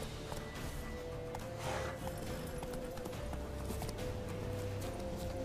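Horse hooves gallop in The Witcher 3, a steady run of rapid clip-clop beats over a dense bed of game ambience, moderately loud and continuous throughout.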